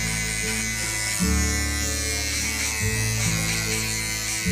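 Electric hair clipper buzzing steadily close up during a men's step-by-step haircut, its motor pitch shifting slightly as it presses into and lifts from the hair, with no talking.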